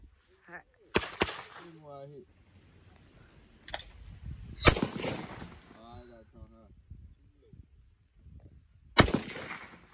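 Shotgun blasts fired outdoors in the countryside: a few sharp, loud reports spaced apart, with people talking between shots.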